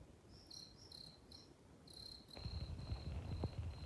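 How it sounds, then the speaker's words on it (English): Crickets chirp inside a greenhouse with purple beans and strawberry beds, a steady high-pitched trilling in short repeated bursts, continuing through a louder rustling background in the second half. "I'm sure you can probably hear the crickets that I have in here too."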